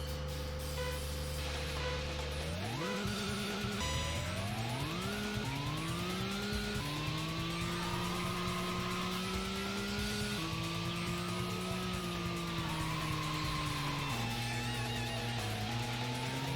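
Cars revving through a drag race in the video game Racing Lagoon, engine tones climbing in pitch with each gear, dropping at shifts and rising again, loud and continuous throughout with no voices.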